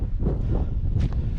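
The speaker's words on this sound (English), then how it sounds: "the wind is making it hard to stand up, to be honest" Strong wind buffeting the microphone on an exposed, boggy fell descent toward Troutbeck Tongue in the Lake District, a steady low roar with gusty rumbling throughout and brief hissing surges near the end.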